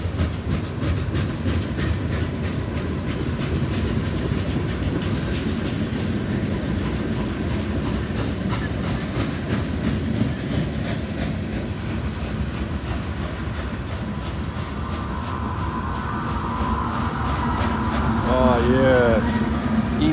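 A CSX freight train with distributed power units rumbles steadily nearby with continuous rail clatter, and a horn-like tone rises near the end.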